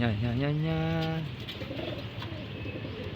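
A racing pigeon coos after returning from a training flight, giving a clear, close rising coo in the first second, followed by softer background noise and faint bird sounds.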